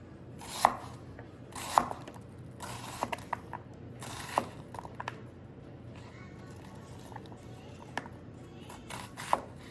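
A knife chops through onions on a cutting board in a quiet kitchen, with sharp, irregular knocks scattered against a low background and a few soft creaks between cuts.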